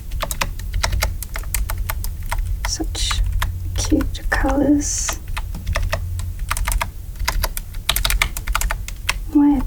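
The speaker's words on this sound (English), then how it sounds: "A little keyboard thing." Small keys on a mini keyboard fidget board click in quick, close, crisp bursts, a steady patter of tapping with a soft-spoken voice murmuring briefly over it.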